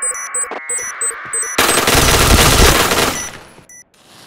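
Rapid automatic gunfire in the shooter game Point Blank, a dense sustained burst about one and a half seconds long, loud and close. Short electronic beeps and interface tones come before and after it, with no talking.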